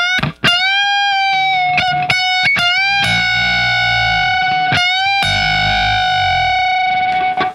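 Heavily overdriven, distorted electric guitar from an album, loud and tight with crushing fuzz, played alone in sustained chords and sharp stabs with brief gaps, no voices.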